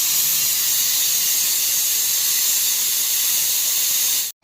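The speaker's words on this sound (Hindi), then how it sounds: "ये सीटी जो है बिना हाथ मारे नहीं आती है" A kitchen pressure cooker cooking rice with peas releases its whistle as a loud, continuous high-pitched hiss of escaping steam. The hiss holds steady for about four seconds, then stops abruptly.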